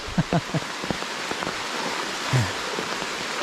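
Heavy rain falls steadily at a waterfall, a dense broadband wash with no pause from start to end, while a few short, soft voice sounds come through at the start and again near the middle.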